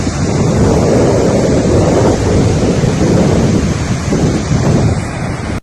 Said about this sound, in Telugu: ఆదిలాబాద్ జిల్లాలో కురుస్తున్న భారీ వర్షాలకు కుంతాల జలపాతం పరవళ్లు తొక్కుతోంది.